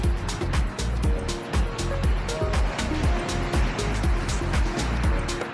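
Strong wind buffets loudly and continuously past a rider on an electric unicycle, a dense rushing roar with gusty pulses and no clear talk.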